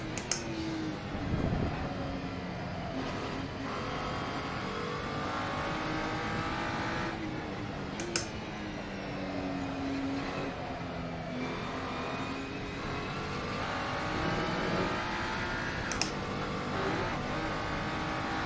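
A race car engine roars steadily through a lap of Assetto Corsa during a league race, with a few gear changes and short tire sounds over a constant motor drone.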